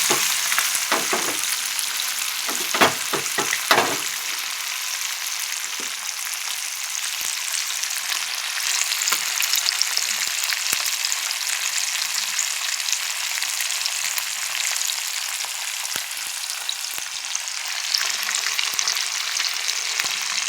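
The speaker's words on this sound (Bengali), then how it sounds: "একসঙ্গে অনেকটা মাছ ভাজা হয়, ভালো লাগে, তাড়াতাড়ি হয়ে যায়" Lots of fish pieces frying together in hot oil give a loud, steady, close sizzle that fills the whole stretch, with a few sharper crackling bursts near the start and no talking.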